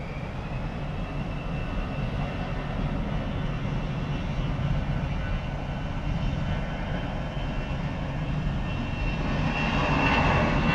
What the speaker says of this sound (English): And now Latam rushing to runway 27.